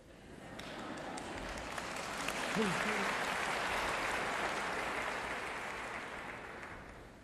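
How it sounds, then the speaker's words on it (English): Applause from a lecture audience in Washington fills the space, a thick continuous patter of many hands that swells and holds steady, while someone talks briefly over it. "Perhaps you're clapping for yourself."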